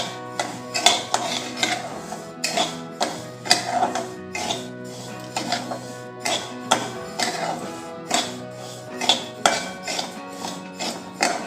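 Barnyard millet (bhagar) is stirred as it roasts in a thick-bottomed kadhai over low gas: a steady run of metallic scrapes and clinks, repeating every half second or so, over a faint tonal background.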